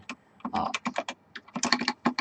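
Rapid keystrokes on a computer keyboard clatter close up in uneven bursts, with a brief pause near the middle before the typing resumes at a quick pace.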